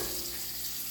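Cold water running from a kitchen tap onto food in a sink, a steady close hiss and splash with no breaks.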